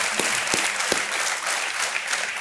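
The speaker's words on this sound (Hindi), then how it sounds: "हम चाहते हैं कि सभी तालियों के साथ इनका अभिनंदन करें" Studio audience on an Indian television quiz show applauds steadily, a dense clapping wash with a few sharper claps standing out, with no talking over it.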